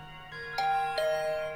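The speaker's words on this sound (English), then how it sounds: "The doorbell still works?" Video game doorbell: two bright chime tones, the second landing about 0.4 seconds after the first, each ringing out clearly over a faint steady background hum.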